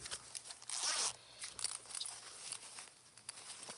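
A zipper on a sewn zipper pocket of a fabric travel organizer rasps open and closed in a few short, faint pulls with light handling rustle in a quiet room.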